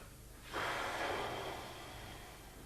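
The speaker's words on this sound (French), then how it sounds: "L'important, c'est de souffler bien à fond." A single long, forceful breath out during respiratory physiotherapy, close and breathy, rising sharply then slowly tapering off over a couple of seconds.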